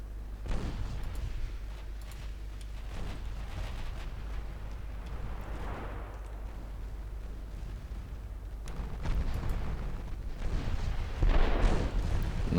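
Secondary guns on battleships fire in the naval game Ultimate Admiral Dreadnoughts, heavy booms spaced irregularly over a constant low rumble, with the firing growing louder and denser near the end.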